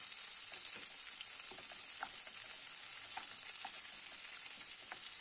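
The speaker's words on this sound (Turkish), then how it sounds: "Sarımsaklarla da şöyle biraz soteledikten sonra domateslerimi bir kaşık yardımıyla alt üst ediyorum" Steady oily sizzling of tomatoes and garlic sautéing in a pan, with occasional light pops and spoon scrapes as the tomatoes are turned, no voices.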